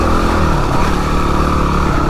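A Yamaha WR250R dual-sport motorcycle riding along an off-road trail, its mid-pitched engine droning steadily and close, with a continuous rumble and no pauses.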